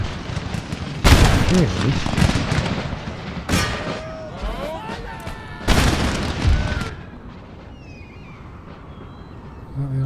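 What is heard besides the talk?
artillery fire in Empire: Total War (DarthMod) video game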